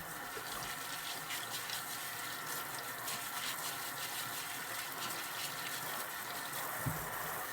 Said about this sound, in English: I'm just going to give my potatoes a quick rinse and a scrub.